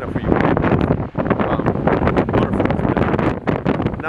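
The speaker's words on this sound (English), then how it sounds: "you got to talk real loud because it's super windy" Strong, gusty wind near Haifoss waterfall buffets the microphone with loud, continuous roaring rumble, largely drowning out a voice speaking underneath.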